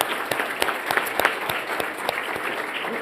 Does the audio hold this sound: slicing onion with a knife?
no